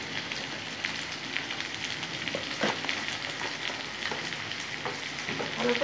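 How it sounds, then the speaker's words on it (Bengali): Potatoes and vegetable stems with salt and turmeric frying in a pan for a Bengali chochori, a steady moderate sizzle with occasional spatula scrapes and stirring clicks, close and without speech. "এই আলু, তারপরে ডাঁটা, এগুলো ভালো করে ভেজে নেব"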